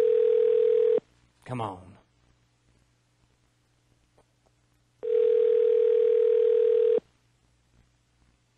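Telephone ringing on a call, heard through the line as two long steady ring tones separated by a gap, with a brief spoken interjection in between.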